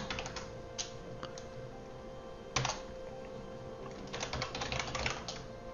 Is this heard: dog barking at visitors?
no